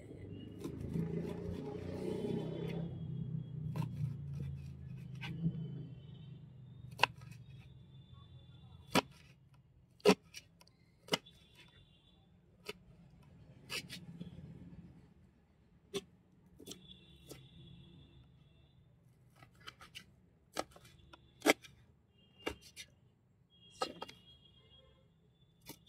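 A banana flower (mocha) is cut up by hand at close range: a series of sharp, irregular clicks and snips over a quiet background, spaced a second or two apart, with no talking.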